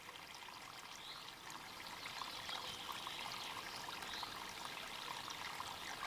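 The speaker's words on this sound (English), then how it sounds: "The stream, normally a babbling brook, is now only a trickle." A drought-shrunken mountain stream trickling softly in a steady, faint wash of running water, with no voices over it.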